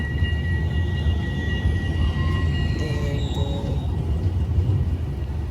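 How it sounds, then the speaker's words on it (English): A steady low rumble of a tram rolling past close by in Rotterdam, with faint high-pitched squeals and tones riding over the continuous noise. "This is the tram."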